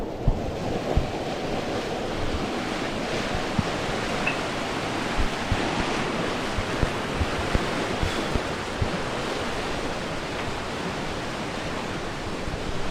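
Rushing water at Devkund waterfall in the monsoon, a steady, dense roar of heavy flow that stays constant and loud throughout, with no talking.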